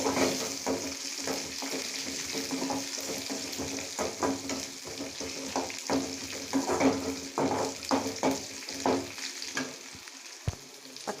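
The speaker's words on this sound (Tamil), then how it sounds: "வரமிளகா சீரகம் கொத்தமல்லி ரெண்டும் சேர்த்துக்கலாம் இதெல்லாம் போட்டு நல்லா தாளித்து" Dried red chillies, cumin and coriander sizzle and crackle steadily while tempering in hot oil, with irregular stirring clatter throughout and no voices.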